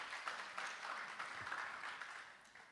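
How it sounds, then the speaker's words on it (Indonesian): A church congregation applauds its worship team, a steady wash of many hands clapping at moderate level throughout, with no voices over it. "berikan tepuk tangan apresiasi buat mereka"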